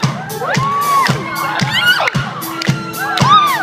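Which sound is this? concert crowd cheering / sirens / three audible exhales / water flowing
concert crowd cheering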